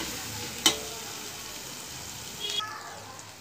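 Ginger paste and chili powder frying in a pan for an okra tamarind curry, a soft steady sizzle under faint background hiss, with a sharp utensil click near the start and a short metallic ring later on.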